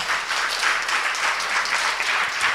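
A crowd gives applause to a guest, a deputy mayor, at a public event. Dense, even clapping fills the whole short stretch at a steady moderate level with no talk.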